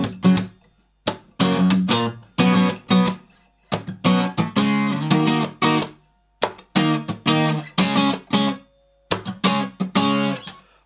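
Guitar plays a song, strummed chords in choppy rhythmic bursts with short stops between phrases, close and clear with no voices over it.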